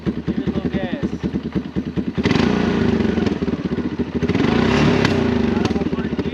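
A Honda FourTrax 200 ATV engine cranks with rapid pulsing chugs, then catches and runs with a loud, rising, buzzing rev close by, while people talk over it.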